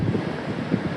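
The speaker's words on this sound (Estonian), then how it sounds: "Ja vaadake, seal ookean vuhab." Ocean surf at Da Nang, Vietnam, a low continuous roar of breaking waves mixed with wind rumble on the microphone, steady and moderately loud with no voices.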